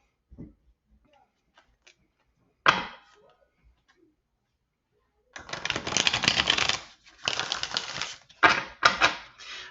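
Tarot cards being shuffled by hand, a few isolated taps and a flick at first, then several bursts of rapid riffling close by.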